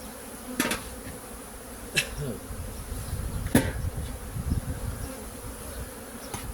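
Honeybees hum inside the super of an Apidea mating nucleus, a soft continuous buzz broken by a few sharp knocks and clicks spaced a second or so apart, close by and without speech.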